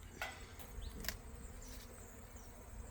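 Honey bees humming from an opened backyard beehive in New Zealand in autumn, a faint, continuous low buzz with a few brief sharper ticks and knocks, no voices.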